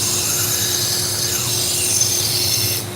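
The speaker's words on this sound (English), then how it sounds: "We're sharpening a set of Argentinian steak knives." Argentinian steak knives, a dull set of eight, being sharpened on a powered sharpener, giving a continuous loud grinding rasp with a steady hum that cuts off at the end.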